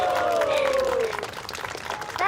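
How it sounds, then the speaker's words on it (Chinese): A small group claps and cheers at a casual gathering announcing the winner of an eating contest, giving a brief burst of close applause mixed with voices and a rising whoop. "掌声！"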